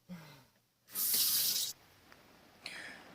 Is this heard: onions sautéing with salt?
no